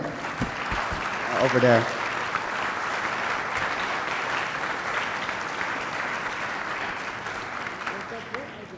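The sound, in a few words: conference audience applause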